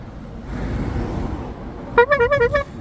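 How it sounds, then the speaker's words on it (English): Passing traffic rumbles, then a police vehicle's horn gives a short, warbling, pulsing blast lasting under a second, fairly loud and nearby. "That's the sound of the police."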